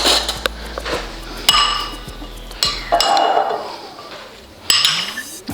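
Spoon stirring loaded hummus topped with olives in a bowl, giving a few bright clinks and scrapes against the dish at irregular intervals, close and moderately loud.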